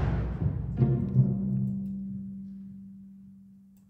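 Low-intensity segment of a game soundtrack: a soft decaying tone with a faint attack, then a single sustained low note fading slowly away, quiet and alone.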